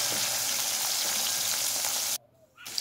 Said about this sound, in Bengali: এবার আমি ওই তেলের মধ্যে দিয়ে দিলাম সজনে ডাঁটা।